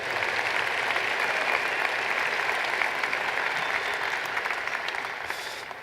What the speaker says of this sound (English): So I invite you all to give them a round of applause for what they have done.